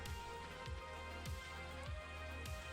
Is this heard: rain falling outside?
yes